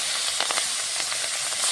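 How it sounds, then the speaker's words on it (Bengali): Fish sizzling in hot mustard oil in a wok, a steady close hiss and spatter with small crackling bursts throughout, no talk. "কড়াইতে সর্ষের তেল দিয়ে দিয়েছি, গরম হয়ে গেছে। মেখে রাখা মাছগুলো দিয়ে দেবো।"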